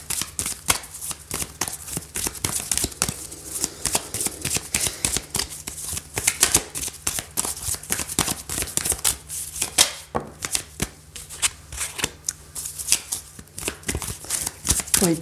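Oracle cards shuffled by hand for a tarot love reading, a steady run of quick papery riffles and flicks close to the mic, with a faint low hum underneath.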